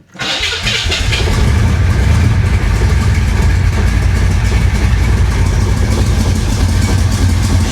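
A 1966 Chevrolet Impala V8 with a carburetor, restored after flood damage, cranks and catches, then runs loud and steady close by with a rough, unsettled idle and no talk over it.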